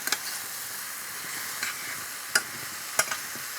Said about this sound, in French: Je vais mélanger et laisser cuire encore 2 minutes.